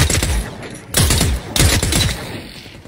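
Gunfire in the video game The Cycle comes in bursts, with dense rapid shots and heavy thumps in three clusters, loud and close, and no talking over them.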